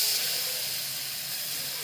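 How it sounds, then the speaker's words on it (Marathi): A ground masala paste for urad dal curry sautés in a pan, giving off a steady, close hiss and sizzle that holds even for about two seconds with no voices. "हे चांगलं परतून घेते।"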